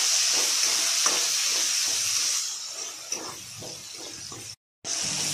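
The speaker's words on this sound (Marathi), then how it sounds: "आता त्यामध्ये टोमॅटो टाकून छान तेल सुटेपर्यंत भाजून घ्यायचा आहे" Onion and tomato fry in hot oil in a pan, giving a steady sizzling hiss with soft stirring scrapes, loud at first and then easing, cut by a brief dropout near the end.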